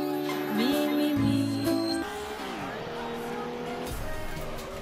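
Engines rev and drone continuously in the racing game Wreckfest, with rising and shifting whines as cars accelerate and gear changes over dense, steady motor noise, while a voice talks over the action.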